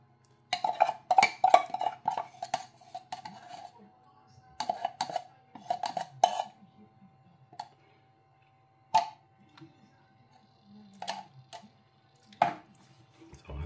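A spoon stirs coconut milk, brown sugar and condensed milk in a pot for biko, with bursts of scraping and light clinking against the metal, broken by quiet pauses and a few isolated taps.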